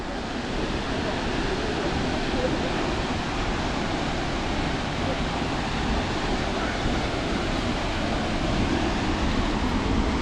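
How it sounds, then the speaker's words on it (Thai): The Huai Luang waterfall in Phu Jong-Na Yoi National Park, Ubon Ratchathani, pours below a hillside trail, a constant dense rushing wash that holds steady throughout without a break. "เริ่มมองเห็นน้ำตกกันนะครับผม น้ำตกอยู่ด้านล่างนะครับ"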